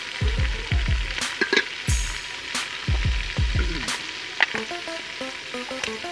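Ingredients for jangli pulao fry in a pan with a close, steady sizzle, joined by a few sharp clatters and separate low, falling tonal sounds from nearby.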